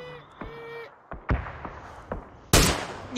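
Gunfire in a shooting video game: several sharp separate shots crack out at irregular intervals, with one loud close blast near the end, over faint tonal game sounds.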